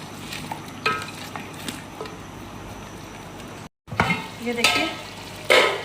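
Stirring fried onion masala paste into chicken and chickpeas in a pot gives a steady sizzle with scraping spoon strokes and wet clicks, a brief cut partway through, and a short spoken aside.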